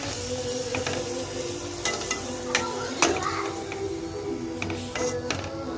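Carrot puri frying in hot oil, a steady close sizzle with scattered crackles and occasional scraping stirs of a utensil in the pan, no voices.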